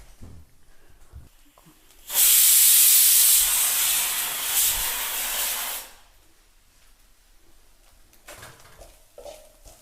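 A pressure cooker vents steam in a loud, close, steady hiss that bursts in suddenly, holds for about four seconds, then cuts off, with quiet kitchen clatter before and after.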